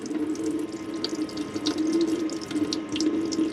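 Pressurized water from the pump-fed tap runs steadily into a motorhome sink, a continuous close hiss and splash with small bright droplet spatters throughout and no talking.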